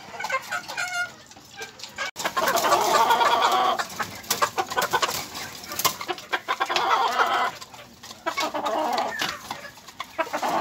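Hens cluck and chatter in a small backyard poultry pen, many overlapping birds close by and fairly loud, with busy bursts and brief lulls throughout.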